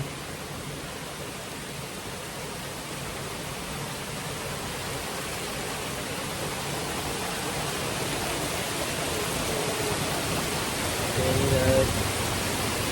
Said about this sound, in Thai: ก็คือฝนเนี่ยตกแรงมาก